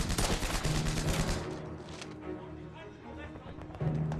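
Incoming gunfire in a World War II battle: dense bursts of shots and rattling fire, loud at first, then easing to a rumbling background before another burst, with voices mixed in.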